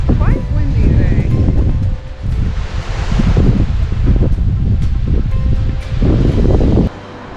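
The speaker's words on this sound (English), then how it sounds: "It's quite windy today." Strong wind gusts buffet the microphone on a trail beside a lake, roaring in loud waves with brief lulls. Rustling comes through during the quieter moments.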